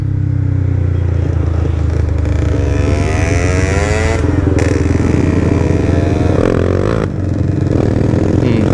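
Motorcycle ridden on a road during a Sunday morning group ride near Medan, engine loud and close with steady riding drone and rising revs throughout, wind and road noise mixed in.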